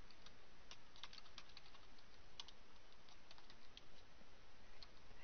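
Fingers tap out a search term on a computer keyboard, a quick run of light, close key clicks over steady background hiss, with no voice.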